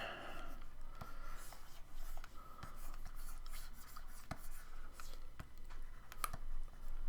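A pen or pencil drawing a female elf rogue character scratches and taps across paper in short, close strokes and occasional sharp ticks, steady and fairly quiet throughout.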